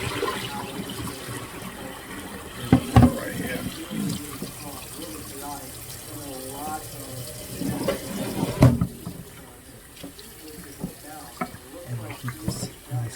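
Water runs from a kitchen tap in a steady wash while oxtail is prepared, with clattering and handling noises, a couple of sharp knocks standing out.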